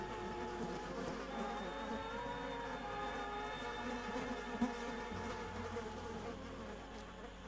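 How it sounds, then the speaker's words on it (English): A dense swarm of bees buzzes steadily in the horror game Layers of Fear 2, a continuous droning hum that holds even and close throughout with no talking over it. "a lot of bees here"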